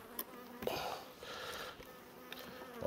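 A few bees buzz faintly around a beehive, a soft intermittent drone with occasional closer passes and light handling noises, no talk.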